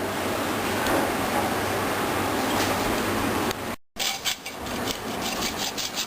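A hacksaw cuts through the outer sheath and armour of an 11kV cable during heat-shrink end termination, giving steady continuous rasping strokes, loud and close, with a brief pause before the sawing resumes.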